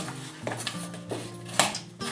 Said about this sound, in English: And so let's stir this a little bit.